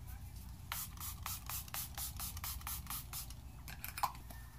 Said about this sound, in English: I almost forgot my setting spray.